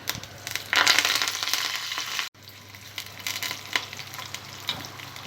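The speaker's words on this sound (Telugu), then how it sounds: "ఆయిల్ వేడిన తర్వాత తాలింపు గింజలు, వెల్లుల్లిపాయ, ఎండుమిర్చి, కరివేపాకు వేసుకోవాలి" Tempering seeds, garlic, dried chilies and curry leaves hit hot oil for a sorrel flower chutney: a sudden loud sizzle flares up, then settles into a quieter crackling fry with occasional stirring.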